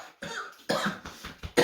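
A person coughs several times in quick succession, harsh chesty bursts close by with short pauses between them.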